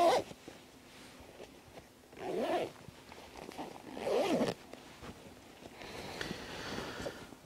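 A 5.11 Rush 12 tactical backpack has its main compartment zipper pulled open in several short rasping strokes, close and crisp, separated by quiet pauses and followed by softer handling noises.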